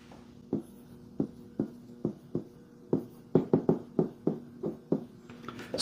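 A pen or marker sketches a sewer hookup diagram, producing a series of short, close scratchy strokes in an irregular rhythm, about a dozen quick marks with brief pauses between.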